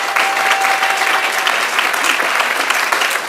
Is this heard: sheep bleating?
no